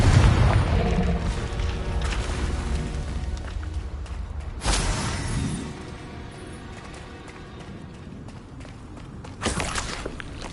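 Confringo spell explosions in a Harry Potter game, two sharp blasts several seconds apart, each a sudden loud burst that decays, over a continuous rumbling background with footsteps and no talking.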